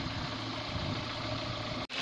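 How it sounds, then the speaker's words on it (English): Toyota Starlet engine idling quietly after a basic service, a soft steady hum with faint rapid ticking from the fuel injector pulses, close up and heard alone, briefly cutting out near the end. "This engine is so quiet you can actually hear each individual pulse from the fuel injector."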